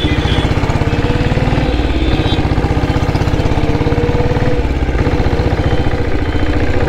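A 1997 Royal Enfield Bullet diesel motorcycle engine running slowly: a loud, close, steady thumping beat with mechanical clatter, alone without talk.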